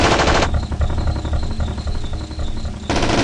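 Scorpion gun firing at robots in the game System Shock, sustained rapid bursts of automatic fire, loud and close, with a slightly muffled stretch in the middle before full-volume shots return.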